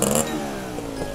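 A motorcycle engine revs in a steady, fairly loud drone that surges briefly at the start, then holds an even hum for about a second with no talking.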